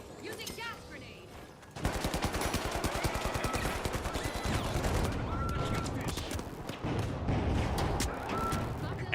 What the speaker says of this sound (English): Everyone's destroying everything. Explosions.